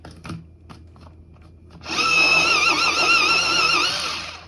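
A pencil is sharpened in a sharpener. A few faint taps come first, then a loud, steady whirring grind lasting about two and a half seconds.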